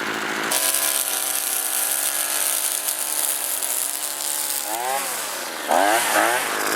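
A small two-stroke string trimmer engine, a Hitachi/Tanaka CG22EAS, runs steadily at close range, then revs up and down in a few quick bursts near the end.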